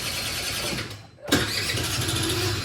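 Suzuki Skywave Tape-S 400cc K8 scooter engine catching after a brief cranking dip, then settling into a steady, close idle with no talk over it.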